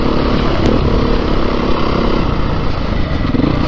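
A 2022 Beta 430 RR-S dirt bike engine rumbles loud and close while the rider putts along at low speed, holding a steady, even throb with no talking.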